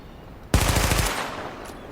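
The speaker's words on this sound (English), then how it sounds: "Let's shoot these guys so they run away." Gunfire erupts as enemies are shot in Tom Clancy's The Division, played on PC: a sharp loud onset followed by a quick rattling burst of shots that fades into a lingering tail.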